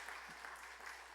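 Faint, steady applause from a church congregation welcoming people during a Sunday worship service, a continuous wash of clapping heard from a distance without voices.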